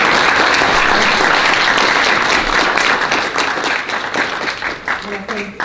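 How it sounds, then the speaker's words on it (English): Audience applause at a Fred Korematsu Day ceremony in the SCC Superior Court: dense, steady clapping from a sizable crowd that thins and breaks into scattered claps near the end. "let's just give a round of applause"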